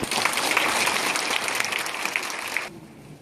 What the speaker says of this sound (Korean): 크게 예, 박수로 격려합니다